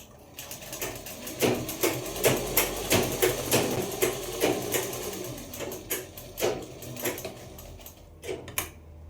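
A sewing machine stitches elastic into a pajama waistband, the elastic stretched as it feeds, a steady run of close, loud mechanical needle strokes with rhythmic pulses throughout and no talking.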